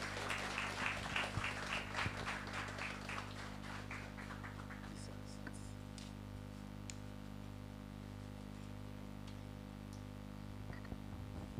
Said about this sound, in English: Dr. Eric Tete Glover, with a round of applause.